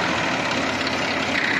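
A tractor engine runs at a steady idle, loud and close, a dense continuous rumble with no change in pace and no voices over it.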